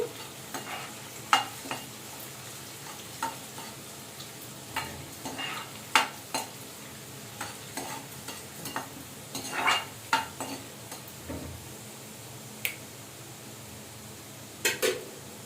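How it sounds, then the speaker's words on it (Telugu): Garlic frying in a pan for a bitter gourd curry, a constant low sizzle broken by frequent spoon scrapes and clinks against the pan, close and fairly quiet. "ఎల్లుల్లిపాయలు వేగుతున్నాయి కదండి చూసారా"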